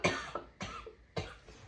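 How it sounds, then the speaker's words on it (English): Three separate coughs from a woman, spaced roughly half a second apart, each sharp and close with a short rasping tail. "Unfortunately, I have to cough."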